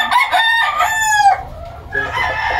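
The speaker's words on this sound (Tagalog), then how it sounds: "Ito po yung Gilmore, typical na Gilmore na original" A Gilmore gamefowl rooster crows once, loud and close, a drawn-out cock-a-doodle-doo followed by a short trailing call.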